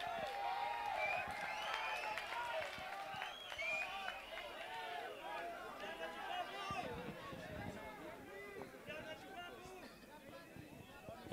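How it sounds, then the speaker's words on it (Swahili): A crowd applauds and cheers at a public gathering for Mheshimiwa John Paul in Meru, with dense clapping and scattered voices throughout, tapering off slightly toward the end. "Mpigieni makofi."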